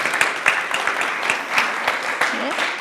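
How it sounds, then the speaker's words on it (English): Audience applause welcoming a speaker to the stage, a moderate patter of clapping with a few louder individual claps and faint voices underneath. "let's all give a warm round of applause"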